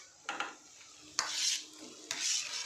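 A spoon stirring onions and tomatoes in a frying pan for homemade chicken curry, three scraping strokes with a soft sizzle swelling between them, close by and without talk.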